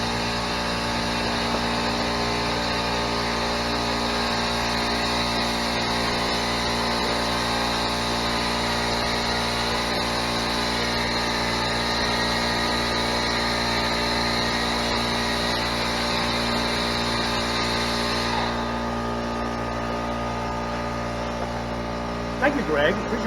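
Air compressor running in a car polishing shop, a loud steady mechanical drone with layered humming tones that holds for about eighteen seconds before its higher whine drops away, leaving a lower hum.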